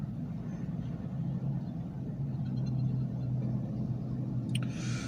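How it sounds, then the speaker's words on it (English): Low engine rumble from cars moving around a parking lot in front of a closed store, a steady moderate drone with a faint brief higher noise near the end. "there's some noisy cars around here"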